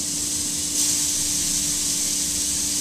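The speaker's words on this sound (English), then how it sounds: "when you get that good sizzle right away" Steady, bright sizzling hiss of pineapple searing in a hot dry grill pan, continuous and close, with a faint low hum underneath.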